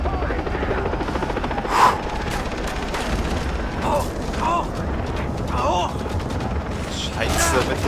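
A steady helicopter rotor drone in Far Cry 3 fills the scene, with scattered mechanical clanks and distant booms layered over the continuous thrum.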